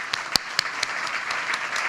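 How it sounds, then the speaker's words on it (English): An audience at a stuttering-charity benefit gala gives a brief round of applause: a few sharp, separate claps stand out over a soft, steady patter of clapping. "Let's have a round of applause like that."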